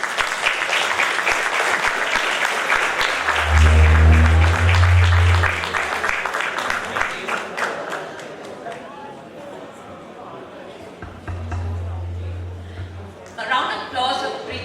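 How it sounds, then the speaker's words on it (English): Audience applause follows an entrepreneurship panel, a dense stretch of clapping under a loud low hum and crowd chatter that fades toward the end. "please give a massive round of applause"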